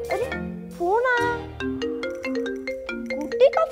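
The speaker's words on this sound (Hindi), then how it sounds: "अरे फोन आया" A phone ringtone plays as a bright, melodic electronic tune with stepped tones, loud and close, filling the whole moment before the call is answered.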